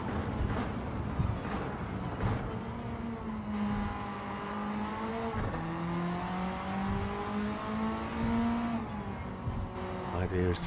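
A Mitsubishi Lancer Evolution VIII races in Gran Turismo 7 at Tokyo, its engine note climbing and dropping through gear changes, with a whining rise near the end, under steady commentary from a man.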